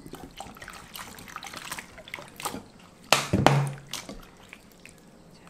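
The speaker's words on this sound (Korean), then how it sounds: "오이도 물에 한 번만 헹구면 됩니다" Cucumber being rinsed by hand in a bowl of water in a kitchen, with soft drips and trickles followed by a brief louder slosh and splash near the end, close and fairly quiet.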